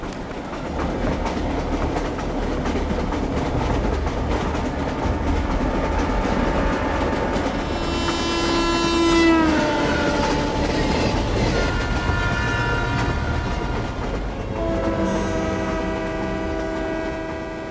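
A train rolls along steadily with rumbling wheels and rail clatter, then slows into a station with a brief brake squeal and rising horn-like tones, loud and continuous with no talk.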